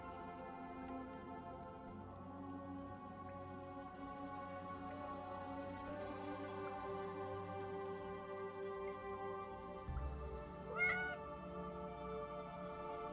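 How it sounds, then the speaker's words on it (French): Several small cats meow in the Ara Fell video game, soft repeated mews layered over steady game music, with a louder cry near the end. "Plein de petits chats!"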